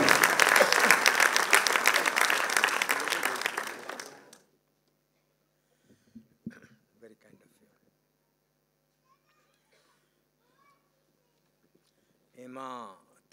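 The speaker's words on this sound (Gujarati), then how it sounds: "ખૂબ તાળીઓ વજાવીએ ડોક્ટર પ્રકાશ કોઠારી" A celebration audience applauds warmly for about four seconds, then the clapping stops abruptly, leaving near silence broken by a few faint scattered sounds and a brief voice at the end.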